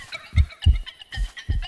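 Clucking chickens in Minecraft, four short low bursts spaced at an even rhythm, fairly close and moderately loud, with no talking.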